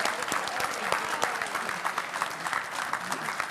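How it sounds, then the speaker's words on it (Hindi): A studio audience at a televised youth debate show claps for two debaters as they return to their seats: sustained, moderately loud applause with scattered sharp individual claps throughout. "तालियां बजाइए भाई इनके लिए,"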